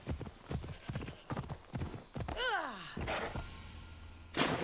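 Rhythmic clip-clop of a galloping horse's hooves on hard ground in the video game Assassin's Creed Odyssey, fairly close, with a whinny sweeping down midway and a splash-like burst near the end as it enters water.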